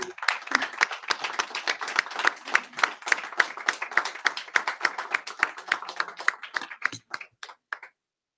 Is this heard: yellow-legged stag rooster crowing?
no